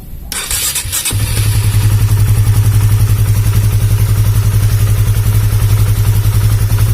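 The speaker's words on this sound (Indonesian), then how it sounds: "Nah ini akan coba saya hidupkan." Honda CB150R motorcycle with a battery that keeps dropping and trouble starting, cranking briefly with an electric starter before catching and settling into a loud, steady, close idle.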